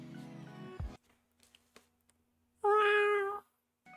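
A person's voice imitates a cat, giving one loud, drawn-out meow near the microphone. Brief voice sounds and a few faint clicks come before it in otherwise quiet surroundings.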